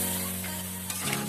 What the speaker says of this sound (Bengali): এখন মশলাটা ভাজার জন্য দিয়ে দিচ্ছি পানি।